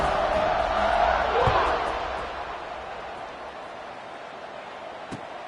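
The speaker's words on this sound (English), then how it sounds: "They're set to kick it off, and this crowd now ready to get behind them" Stadium crowd in the College Football 25 video game roars loudly at a kickoff, the swell peaking in the first two seconds then easing into a steady background murmur.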